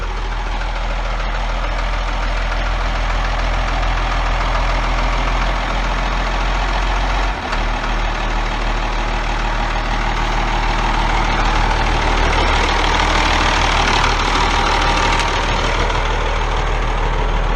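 A 1989 Ford TW15 tractor engine idles steadily, a loud, deep diesel rumble with an even throb and a brief dip partway through, heard alone without talking.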